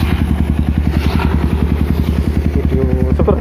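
Motorcycle engine running through a test, loud and steady with a rapid thumping idle rhythm and some clattering near the end, close up with no talk.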